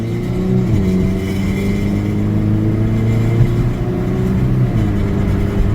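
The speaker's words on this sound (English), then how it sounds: "So now I'm going to see if I can do a quick pull and see how the car treats me." A car pulls hard under acceleration with a loud, continuous engine drone from inside the cabin, its pitch shifting slightly as it pulls, no speech.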